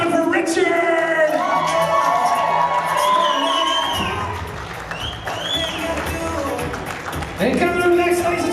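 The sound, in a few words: wedding guests clapping and cheering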